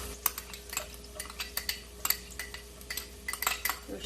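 A spoon scrapes and taps against a cooking pan while garlic goes in, a run of quick metallic clinks and scrapes, irregular and close, with short pauses between strokes.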